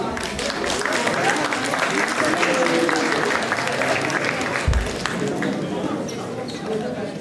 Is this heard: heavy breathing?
no